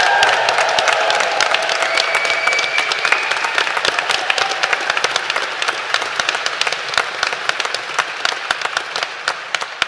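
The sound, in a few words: graduation crowd cheering and applauding loudly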